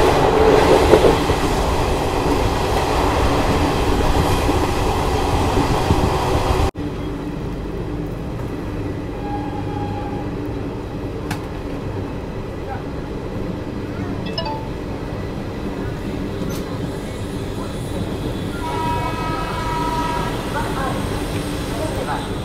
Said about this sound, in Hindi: गरीब रथ एक्सप्रेस निकल चुकी है धनबाद जंक्शन से